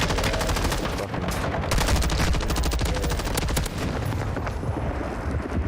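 Rapid automatic gunfire in Call of Duty: Warzone 2.0 rattles in dense bursts for several seconds with little pause, loud and close.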